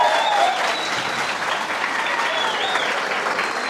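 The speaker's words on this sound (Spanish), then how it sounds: "¡Aplauso para él!" Audience applause fills a Pentecostal debate hall with a Catholic priest, a dense, steady wash of clapping from a crowd that holds for nearly four seconds, with a brief voice and faint whistles just audible above it.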